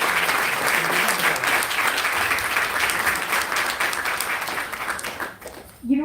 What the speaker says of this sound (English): I think a huge round of applause for Swapnokalpa and the entire team.